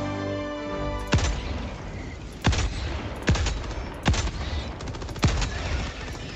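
Gunfire in the video game Helldivers 2: steady heavy automatic fire throughout, with loud booming shots punching through about every second, close and dense.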